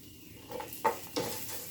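Onions, chillies and curry leaves fry in a pan with a soft sizzle, punctuated by two sharp stirring clinks of a utensil against the metal.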